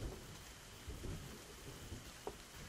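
Rain and thunder in the survival game The Stomping Land: a steady wash of rainfall with low rumbling thunder rolling underneath and a sharp crack near the end, no voices.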